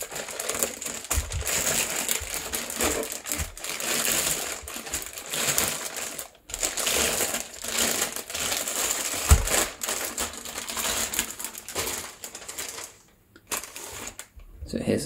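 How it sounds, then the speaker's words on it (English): A subwoofer for a Majority DX20 2.1 speaker set is pulled from its packaging, with close crinkling, rustling and crunching of wrapping and cardboard, brief thumps and pauses, under a talking voice. "I'll take this out of the packaging."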